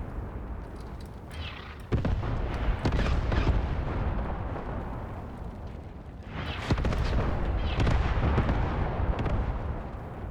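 Artillery and tank fire in the wartime tactics game Graviteam Tactics rumbles as dense, continuous booms and bursts, with heavier volleys around two seconds and again near seven seconds.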